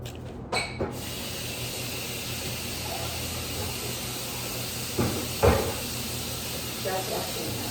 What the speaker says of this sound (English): Just washing my hands.